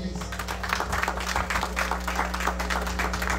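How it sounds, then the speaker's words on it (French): A church congregation breaks into steady, dense applause, many hands clapping together at close range for the whole stretch. "Est-ce qu'on peut acclamer pour cette église?"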